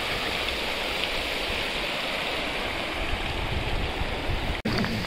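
A mountain river near Haidakhan Babaji Ashram in Uttarakhand rushes loudly and continuously, a dense close wash of flowing water that barely changes apart from a brief dropout near the end.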